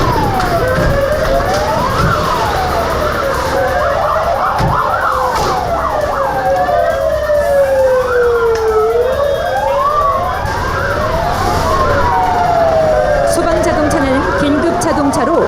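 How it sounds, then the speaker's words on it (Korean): Fire engines respond to an emergency during a disaster-response drill in Yeongdeok, several wailing sirens overlapping and sweeping up and down together, loud and continuous under traffic noise. "신고 접수를 받은 소방대원들과 소방차가 즉시 출동하고"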